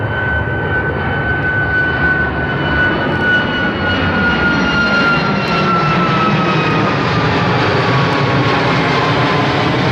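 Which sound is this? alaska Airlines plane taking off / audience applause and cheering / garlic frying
alaska Airlines plane taking off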